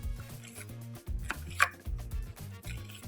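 A knife chops onion on a cutting board in a home kitchen, a quick irregular run of close, crisp taps with brief pauses, no talk.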